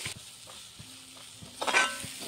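Kothu parotta is stirred and mixed in a hot pan with a soft sizzle, light scraping strokes at intervals and a brief louder clatter of the spatula near the end.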